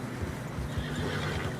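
Horse in Red Dead Redemption 2 neighing and whinnying in fresh snow on a narrow trail, close and steady over a low rumble of hooves and ambient noise, with no talk.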